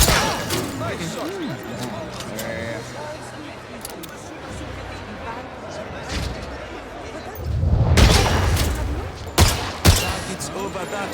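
Gunshots at a shooting range in the video game 007 First Light, a few sharp cracks standing out late over game chatter and voices speaking in the background.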